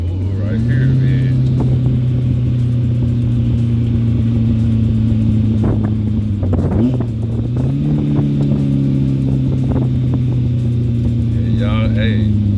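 Turbocharged Fiat X19, a small go-kart-like sports car, holds a steady loud engine drone that steps up in pitch partway through as the revs rise, with people talking over it.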